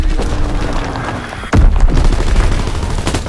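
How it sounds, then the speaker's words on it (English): A Fritz X guided bomb drops and detonates in the World War II shooter Call of Duty: WWII, a heavy boom bursting in halfway through over continuous battlefield gunfire and rumble. "Dropping Fritz X-bomb"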